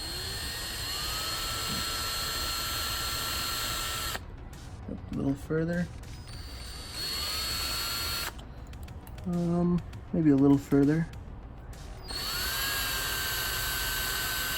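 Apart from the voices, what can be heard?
drill drilling out metal rivet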